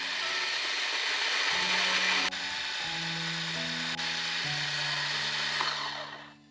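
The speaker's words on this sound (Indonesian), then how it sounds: "ini aku mau lanjut chop lagi sampai teksturnya benar-benar lembut dan halus" A small electric food chopper whirs steadily at high speed chopping chili paste, its motor pitch shifting in steps as the blades spin, then winds down and stops.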